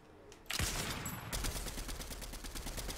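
Rapid bursts of Fortnite gunfire crackle in quick succession after a brief quiet start, loud and sustained like a video game firefight.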